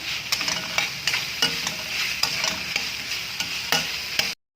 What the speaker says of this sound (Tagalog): Ito yung luto nating papaya and shrimp stir fry